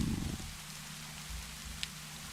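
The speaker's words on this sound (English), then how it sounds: "listen to that rain come down" Rain falling steadily in a cozy horror game, a soft constant hiss with a low hum and a brief bright drip-like tick, heard alone without talk.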